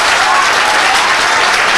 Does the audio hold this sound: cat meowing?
no